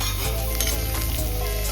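Mushrooms sizzle steadily in a hot pan as they are stirred, with a continuous close frying hiss and a few soft scrapes of the spoon, no voices.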